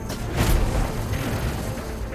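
An exotic trace rifle fires in the sci-fi shooter Destiny, giving a dense, loud sustained energy-weapon blast with a booming low end that swells around the half-second mark and holds steady throughout, with no voices.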